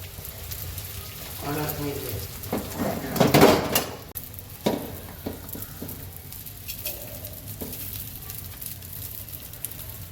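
Ground edible gum (gond) roasts in a pan for winter ginger sweet, giving a light crackling sizzle with a few louder stirring scrapes and clatters of the pan, while a voice talks over it.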